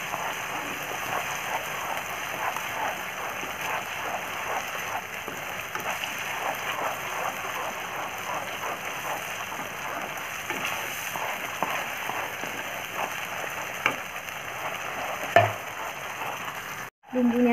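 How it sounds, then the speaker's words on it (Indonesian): Spice paste for beef rendang sautés in a pan with a steady, even sizzle and soft intermittent stirring scrapes, fairly quiet and continuous throughout, with a brief clatter near the end. "Tumis hingga wangi."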